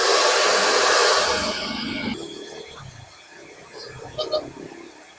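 A hot air blower roars loudly while heating a sticker decal to peel it off, then fades lower, and a person talks over the tail end.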